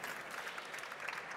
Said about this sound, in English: So join me in a round of applause in welcoming them.